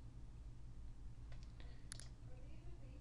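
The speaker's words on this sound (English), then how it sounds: "Then I click fill drop down" Faint mouse clicks on the fill drop-down button in Adobe Acrobat, a few soft, quick ticks close together over a steady low hum.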